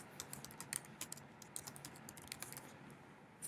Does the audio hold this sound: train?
no